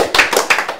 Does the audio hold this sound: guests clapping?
yes